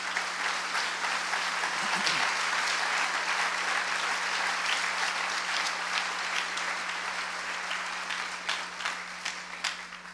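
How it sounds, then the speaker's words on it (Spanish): A church congregation gives sustained, loud applause to the Lord during a Spanish-language sermon, a dense wash of many hands clapping that stays full for several seconds before slowly thinning out. "démosle un fuerte aplauso al Señor, hermano"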